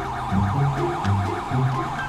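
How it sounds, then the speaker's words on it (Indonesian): Wailing ambulance siren in the GTA 5 video game, a rapidly oscillating electronic yelp repeating throughout, loud and close over a low engine drone, with no talk. "Itu ambulan datang ya."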